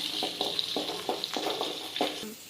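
Onions and small shallots sautéing in a pan, a soft continuous sizzle broken by rhythmic spatula scrapes every half second or so, close and moderately loud.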